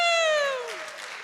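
Audience at a Friday night folk concert cheering a singer: a loud whoop falling in pitch rings out over light clapping that carries on quietly afterward.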